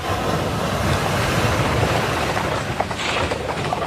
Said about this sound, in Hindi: भवन के झरोके से सागर की उछाल खाती लहरें दिखाई देती है।